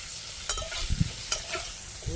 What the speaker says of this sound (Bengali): কাঁকরেল ভাজা হয়ে গেল